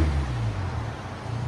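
Exhaust of a 2019 Volvo S60 T6 2.0L turbo with the muffler cut off, a steady low idle drone with a deep rumbling throb, close and continuous.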